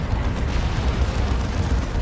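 A Manticore rocket strike explodes on a Land Raider Phobos in the Dawn of War 2 strategy game, a dense, rumbling blast of heavy booms that fills the whole moment at steady loudness.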